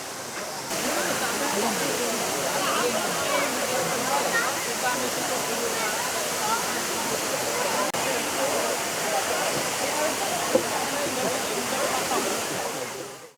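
Phnom Kulen waterfall in a Cambodian national park, a broad continuous roar of falling water filling the whole scene, steady and fairly close, with no pauses.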